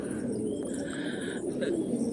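Soft, low cooing of pigeons resting in a loft of about 330 birds, over a constant murmur of many birds, with a few brighter chirps mixed in close by.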